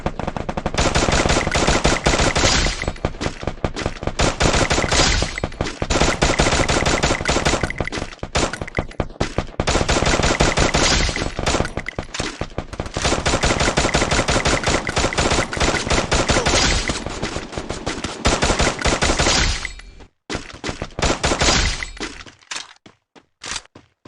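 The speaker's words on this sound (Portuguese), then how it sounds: "Eu tô atirando aqui." Rapid automatic gunfire rattles in a shooter video game, loud and continuous in long bursts with short gaps, and it tails off into a few scattered shots near the end.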